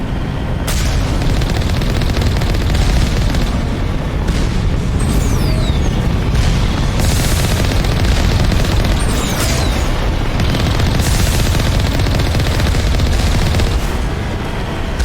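Turret gunfire during an Asteroid X57 mission in the video game Mass Effect, loud, dense bursts of booming shots and blasts layered over one another, with brief lulls between heavy volleys.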